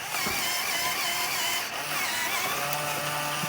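Small LEGO Power Functions electric motor whirring steadily and continuously as it drives open the landing bay of a LEGO Star Wars Razor Crest model, close and fairly loud.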